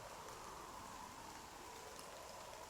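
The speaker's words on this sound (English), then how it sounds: "I never used to like the sound of the rain" Steady, soft rain hisses evenly throughout, a constant wash of falling drops with no voices or other sounds, in the game Nier Reincarnation.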